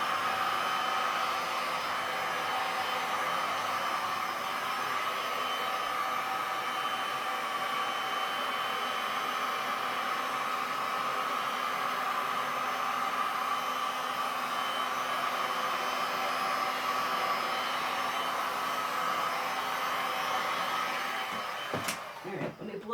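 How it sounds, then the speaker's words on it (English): A hair dryer blows steadily over wet resin on a painting, a loud, even whooshing roar that runs unbroken for a long stretch before cutting off with a clunk near the end. "let me blow it around with the blow dryer a little bit and then we'll tilt"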